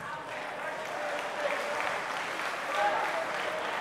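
Audience applause at an outdoor political speech, a steady moderate patter of clapping from a crowd heard at some distance, fairly quiet and even for a few seconds.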